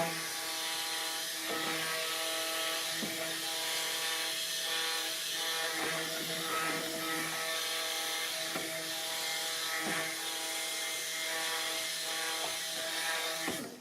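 Outdoors, a motor-driven yard tool like a lawn mower or weed eater drones steadily, with a rough buzzing tone and periodic rhythmic pulses. It carries on continuously with no talk.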